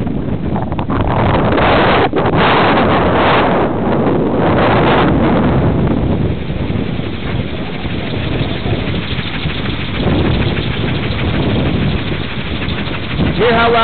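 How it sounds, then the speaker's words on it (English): An unloaded wind turbine overspeeds as it starts up, a loud, steady roaring whir that runs throughout, with heavy wind buffeting on the microphone. "That's an unloaded wind turbine. Makes a lot of noise when it first starts up"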